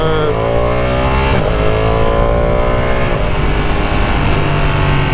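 Ducati Panigale V2 sport bike accelerating hard in race mode, a loud steady engine roar with rising pitch sweeps as it climbs through gears, close and continuous.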